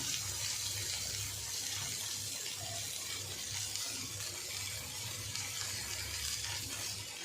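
Fresh bombil fish shallow-fry in a little oil, a continuous, fairly quiet hiss and crackle that stays steady throughout.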